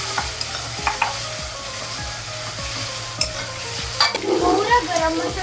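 Stir-frying with red chilli powder and turmeric in a pan for a noodle dish: a continuous sizzle runs under repeated spoon scrapes and taps, close up, with a louder burst of crackling near the end.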